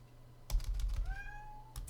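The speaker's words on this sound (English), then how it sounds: "Hey, my little kitty's here." A house cat lets out one clear rising meow in the middle, close and fairly quiet, surrounded by soft clicks of computer keyboard typing.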